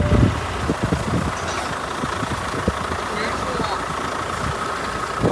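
Truck engine running at a steady low rumble, recorded close, with knocks and clatter over it.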